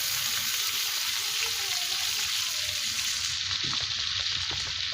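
Hilsa fish frying crisp in hot oil, a steady close sizzle and crackle running throughout, with faint stirring or scraping sounds underneath.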